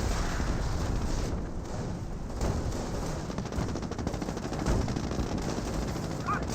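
Dense gunfire crackles continuously through a Company of Heroes battle, with machine-gun bursts and scattered shots layered over a constant rumble of combat from a Volksgrenadier fight.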